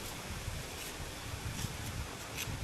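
Gusty wind keeps blowing in the aftermath of a typhoon, a faint, broad outdoor hiss with soft rumbles and occasional brief gusts buffeting the microphone.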